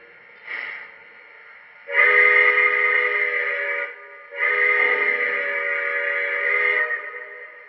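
A short faint toot, then two long, full blasts from a Lionel model train steam whistle separated by a brief gap, mellow and chord-like, trailing off at the end.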